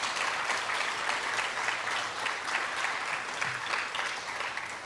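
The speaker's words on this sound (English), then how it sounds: "Can we give everyone a round of applause who did speak today?" A crowd applauds the speakers at a grand opening press briefing for a restorative care village, a sustained, even wash of many hands clapping for about five seconds, fairly loud, with no voices on top.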